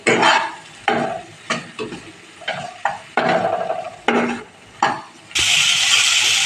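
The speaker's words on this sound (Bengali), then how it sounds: "লঙ্কার গুঁড়ো দিয়ে মশলাটাকে ভালো করে কষিয়ে নেব" A spice paste of tomato, turmeric and Kashmiri red chili powder frying in oil for a catla fish kalia, with bursts of stirring scrapes and short sizzles, then a steady loud hiss at the end.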